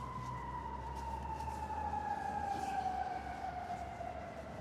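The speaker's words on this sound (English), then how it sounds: "I'm gonna mute too in case they blare their siren." A steady fire truck siren wails continuously in the distance, its tone slowly sliding downward over a rumbling downtown traffic background on a windy day.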